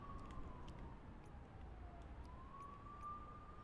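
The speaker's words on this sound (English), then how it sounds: "there is ambient noise in cities and stuff like that. You can hear the sirens going on." A city siren in Microsoft Flight Simulator 2024 wails in slow rising and falling sweeps, heard from a distance over a steady low urban rumble.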